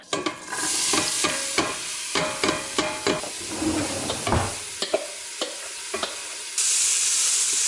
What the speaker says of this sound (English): I add onions, carrots, and celery to the pot and stir.